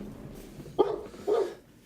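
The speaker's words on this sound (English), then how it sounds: "got this weird dog sound effect on one of their spells" Two short yelping dog barks from a creature's spell in a tabletop game, a faint one followed by a slightly longer second, sounding synthetic and standing alone over a low room murmur.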